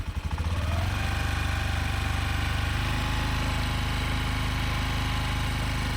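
A scooter engine catches and settles into a steady, close, low-pitched running drone at gentle throttle while a learner rides slowly.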